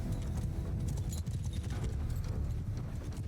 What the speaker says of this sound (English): Cavalry charge. Horse archers move up.